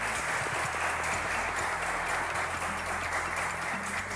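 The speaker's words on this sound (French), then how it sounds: "Merci de les applaudir." A live studio audience at the show "Le Trône" applauds arriving guests, a thick, even wash of clapping that stays loud and unbroken throughout, with a low hum beneath.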